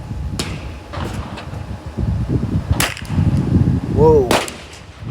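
.22 rifle firing match ammunition at an outdoor range, several sharp cracks spaced apart over background noise.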